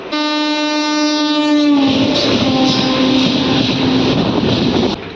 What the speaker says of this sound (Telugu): గుంటూరు నుంచి సికింద్రాబాద్ వెళ్ళడానికి one of the best train అని చెప్పొచ్చు పల్నాడు సూపర్ ఫాస్ట్ ఎక్స్ప్రెస్ని